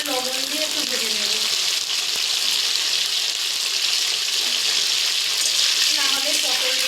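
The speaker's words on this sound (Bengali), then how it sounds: "এবার আমি পটলগুলো ভেজে নেব।" Pointed gourd (potol) fries in hot oil with salt, giving a steady, loud, close sizzle that runs unbroken throughout, with a faint voice briefly heard at the start and end.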